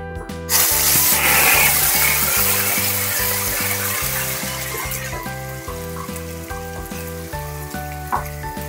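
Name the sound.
whole spices and tomato puree frying while stirred in pan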